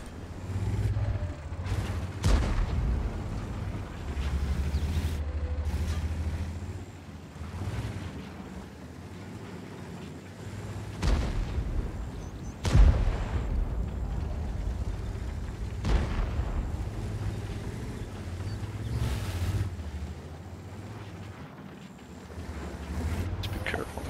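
Tank cannon shots and explosions in the game World of Tanks, a T-10 in battle: several sharp booming blasts spaced across a steady rumbling engine drone, with no talk over them.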